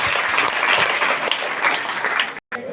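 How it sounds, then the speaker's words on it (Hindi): A church congregation claps loudly and continuously in a dense, energetic burst that cuts off sharply near the end before briefly resuming. "जोरदार ताली से धन्यवाद।"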